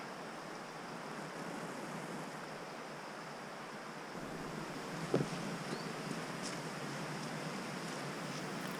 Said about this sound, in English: Enjoy the sounds of the river